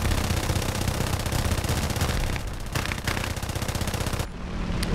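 Aircraft machine guns firing in War Thunder, from a P-26A-33 fighter: rapid, continuous bursts that are loud and close, with a short pause and a final quick burst near the end, and no speech.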